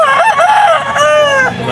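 Rooster, a full stag at a market poultry stall, gives one loud, close crow with a rising then drawn-out call, alone without talk.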